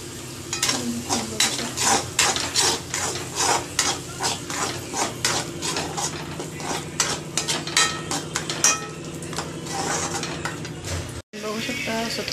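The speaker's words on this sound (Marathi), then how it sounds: "तेल सुटेपर्यंत आपण मसाला परतून घेणार आहोत." Black masala sautéed in oil for paneer curry, with constant close sizzling and rapid rhythmic scraping of a spoon against the pan that pauses briefly near the end.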